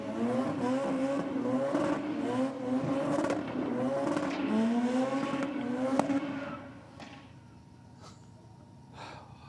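A Mazda RX-7 does a strong burnout at a drag race, loud sustained engine wail with rising pitch, then cutting off into quieter crackling and distant sounds near the end.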